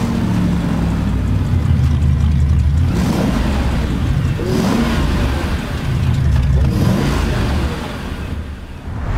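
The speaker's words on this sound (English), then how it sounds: "I take this car, start the engine" A Mercedes G-Class engine runs and revs in repeated swells, loud and close, with deep low rumble rising and falling across the clip and no talking.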